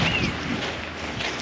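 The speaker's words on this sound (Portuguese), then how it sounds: "Bate na cara, um vento gelado." Cold wind blowing outdoors near a river, a steady broadband rush buffeting the microphone throughout, loud and continuous with no talk.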